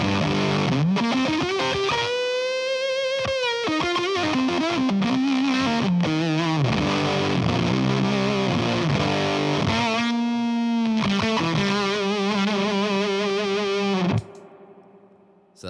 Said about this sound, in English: let's hear what fuzz into an overdrive sounds like. This specific fuzz is a Creepy Fingers fuzz face circuit.